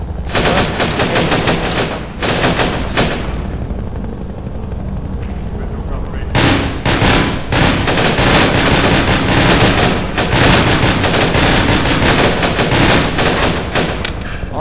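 Game gunfire in Half-Life 2 during a battle at a church, loud rapid automatic bursts with dense repeated shots and short pauses, someone talking over the shooting.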